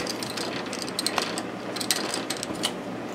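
Honey extractor spinning beehive frames, a close mechanical whirring with a rapid clattering, ratchet-like rhythm, steady and unaccompanied by speech.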